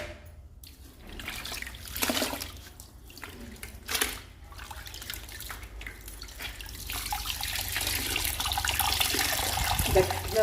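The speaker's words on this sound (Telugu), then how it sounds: "గట్టిగా పిండండి వాటర్ అంతా పోయేటట్టు." Dirty water being wrung out of door mats, splashing and trickling into a sink in uneven bursts that build toward the end, close and continuous.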